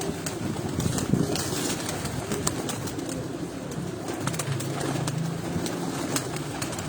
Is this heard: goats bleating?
no